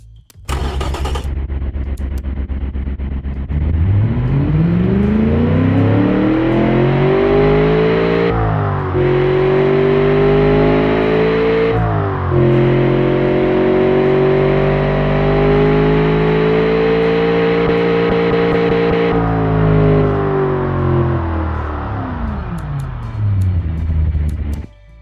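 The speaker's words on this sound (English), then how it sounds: "V8 with twin carburetors on it" Simulated Chevrolet 383 Stroker 6.3-litre V8 with twin carburetors in the Automation game, cranking to life and then holding a loud, steady rev with a few brief dips in pitch before winding down at the end.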